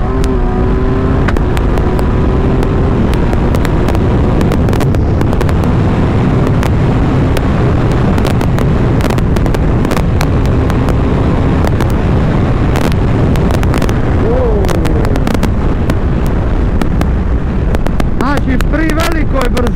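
A Kawasaki Ninja 1000 SX rides in sixth gear at speed, its steady engine drone buried under constant loud wind roar and buffeting against the rider's microphone, with a voice speaking at times over it.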